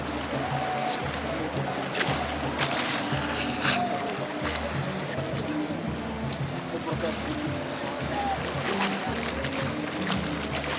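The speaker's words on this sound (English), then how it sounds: "There's a boat coming in." A boat's engine hums low across the water as it approaches in Lisbon, Portugal, with lapping water and distant voices in the background.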